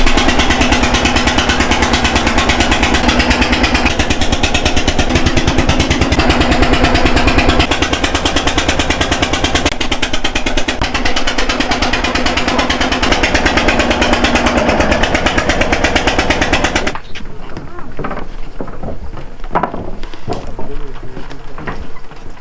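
Motorboat engine running on shallow coastal water near Kolkata, a loud steady close chugging drone for most of the stretch, then cutting down to a quieter background with faint birdsong and a voice.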